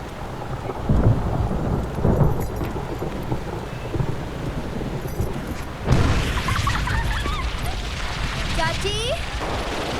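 Heavy rain pours steadily in a film scene while deep rolls of thunder rumble and boom. A louder crack comes partway through, and voices speak over the storm.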